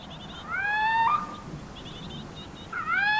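A rival little owl calls in a barn during mating season: two rising, whistled notes, one after the other, with a third beginning at the end, clear and fairly near over a low background hum.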